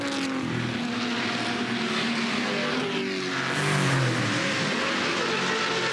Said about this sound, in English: Paul Freestone in that great-looking 68 Camaro just up in front there.